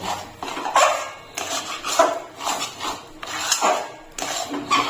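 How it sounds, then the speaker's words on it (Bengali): Three small cardamom pods fried in ghee in a pan over a low flame, stirred with a utensil that scrapes and clinks against the metal in repeated close strokes of uneven rhythm. "এলাচটা দিয়ে ভালো করে ভেজে নিতে হবে।"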